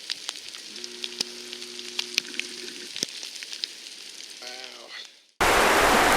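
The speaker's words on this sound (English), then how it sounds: "It's just starting to rain with hail and snow." Rain mixed with hail and snow starts falling in Zion National Park, a soft crackling patter with scattered sharp ticks and a low steady hum, ending in a sudden loud rushing burst.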